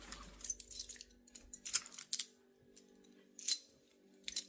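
A bunch of keys jangling indoors, quiet and close, with scattered short metallic clinks and rattles coming in irregular bursts over a faint background hum.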